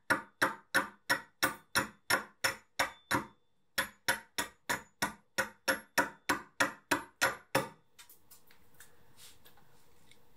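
A blunt, badly dented axe chops at bone in a quick, steady rhythm of sharp knocking blows, about nine strikes, a brief pause, then ten more, followed by quieter handling noises.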